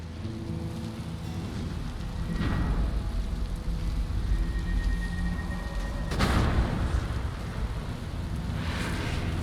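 A Storm Thrall is summoned in Skyrim, with steady rain-like hiss and crackling thunder bursts, two sharper booms rising above the continuous storm noise, no talk.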